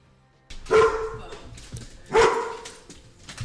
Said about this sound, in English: The dog needs to shut the fuck up.